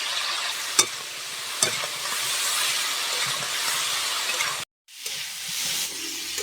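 Steady hissing sizzle of cauliflower frying in hot oil, with a couple of sharp clinks and a brief dropout near the end.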